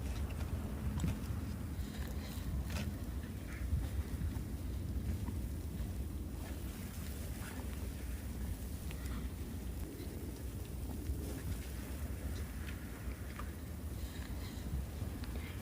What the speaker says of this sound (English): The wind is blowing so hard that it lifts one leg of my tent.